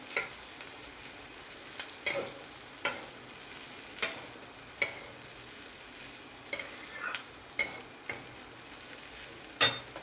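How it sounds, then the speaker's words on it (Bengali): Ginger garlic paste fries in a pan under a soft steady sizzle, broken by sharp, irregular scrapes and clinks of a spatula being stirred against the metal. "যে আদা রসুন বাটাটা দিয়েছি ওকে জিনিসটাকে ভাজা ভাজা করতে হবে"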